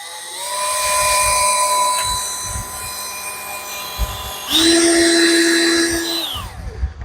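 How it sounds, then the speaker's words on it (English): Power drill with a scrubbing attachment cleaning a motorcycle tire white wall, a whirring motor whine with rhythmic rubbing and a louder, higher-pitched burst as the drill speeds up partway through. "You don't need to go on the highest setting for your drill gun because it's gonna fling stuff all over."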